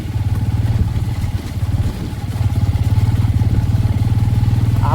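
A Bajaj Pulsar N160 motorcycle rumbles at low revs on a rough off-road trail, its engine a close, loud, steady throbbing throughout with no one speaking.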